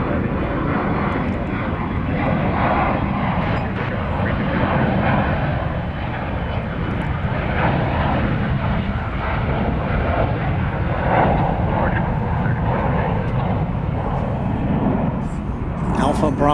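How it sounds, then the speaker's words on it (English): An Atlas Air Boeing 747, call sign Giant, rolls for takeoff at DFW Airport, its jet engines a loud, steady broadband roar that holds throughout without letting up. "747 moving into position for takeoff"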